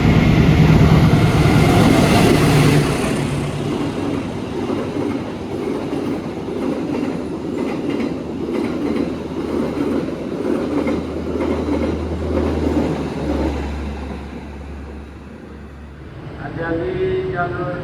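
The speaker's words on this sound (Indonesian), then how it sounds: "Argo Dwi Pangga melintas jalur 2" The Argo Dwi Pangga passenger train passes on track 2 at an Indonesian station, a long, loud rumble of wheels and carriages with rattling and faint squeals, and brief tonal sounds near the end.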